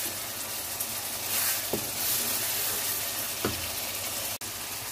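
Red chili and turmeric powder fry in a pan with a steady, moderate sizzle, broken by a couple of brief stirring scrapes and a short dropout near the end.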